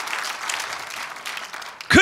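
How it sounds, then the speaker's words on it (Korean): Crowd applause at a political rally of a nationwide free-village organization: steady, dense clapping fills the space for about two seconds, then a sudden loud burst cuts in at the very end. "자, 박수 쳐요. 박수 쳐요."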